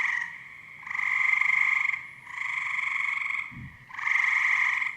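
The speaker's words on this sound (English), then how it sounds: "it'll always sound like the frogs are just like frogging around" Frogs croak in a looping ambient sound effect, a steady chorus of close buzzing calls swelling in three long rhythmic waves with short dips between.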